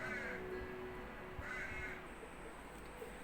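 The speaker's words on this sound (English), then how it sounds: "I just had to go and see to the birds outside. They make a terrible racket." Birds outside caw twice, fairly faint against steady background hiss, with a low hum running beneath and no talking over the calls.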